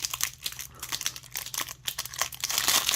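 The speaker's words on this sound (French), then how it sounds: "je peux vous ouvrir un pack" A Pokémon card booster pack from a Battle Styles pre-release kit is torn open up close, with dense crackling foil crinkles and tearing that grow louder and fuller toward the end, with no one speaking.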